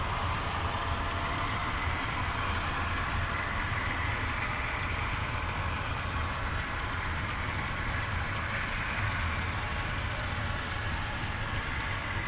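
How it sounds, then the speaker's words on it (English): Model trains rolling along the upper level of a large Union Pacific Evanston Subdivision layout give a steady, continuous low rumble and whir that holds at an even level throughout, with no one talking. "It's all at eye level, so it's a lot of fun to watch the trains go on the upper level."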